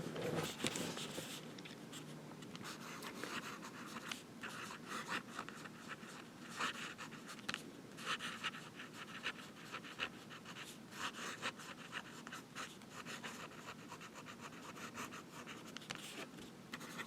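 A Jim Hinze fountain pen with a wet 14K gold nib writes steadily, giving a continuous close scratchy scribble of nib on paper with small rhythmic strokes and no talking.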